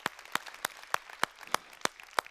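Steady, rhythmic clapping from a church congregation, about eight sharp claps at an even pace, fairly faint with light background noise and no talking.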